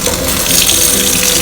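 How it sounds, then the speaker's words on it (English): Tap water runs steadily into a sink over a potted Phalaenopsis orchid, a constant close splashing hiss with no pauses and no voices. "and just open the tap"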